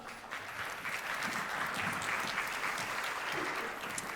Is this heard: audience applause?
yes